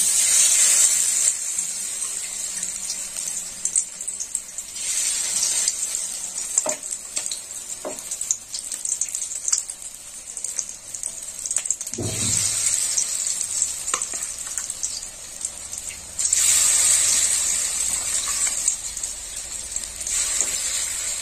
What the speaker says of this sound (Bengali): ভেটকি মাছের তেলের পকোড়া বানাচ্ছি